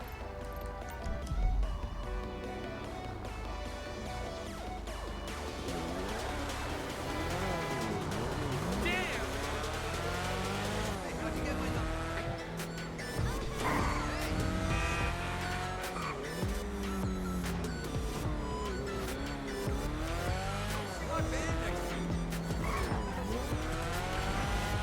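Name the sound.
car driving in GTA Online video game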